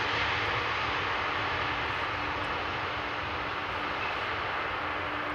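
An airliner lands at Amsterdam Schiphol Airport, filling the clip with a loud, continuous engine roar and a wide rushing noise that holds steady throughout.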